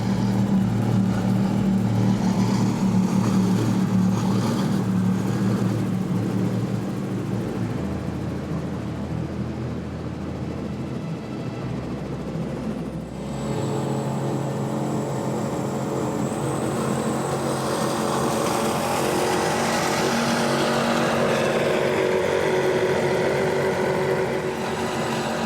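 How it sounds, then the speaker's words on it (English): A Cigarette Racing 42X powerboat with Mercury Racing 1100 engines runs steadily on the water at a poker run, producing a loud, continuous deep engine roar with a shift in tone partway through as it passes. "welcome back to Rick Regal from Ohio with his Cigarette Racing 42X powered by Mercury Racing 1100s. They sound so sweet."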